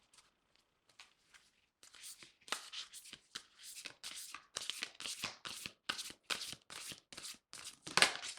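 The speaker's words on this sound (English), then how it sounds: "I'll shuffle one more time after this." A tarot card deck is shuffled repeatedly at close range, giving a fast run of crisp riffling bursts with short pauses between them and no talking.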